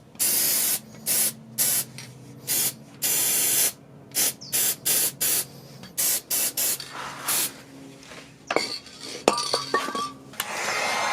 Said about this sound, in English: Then I'm going to spray them with some penetrating oil